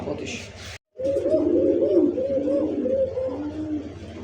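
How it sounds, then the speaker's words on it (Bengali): A male pigeon, kept among fancy pigeons for sale, coos in a run of low, repeated throaty calls after a brief gap, close and clear with faint voices at the start. "ককার ডাক শুনছেন তো"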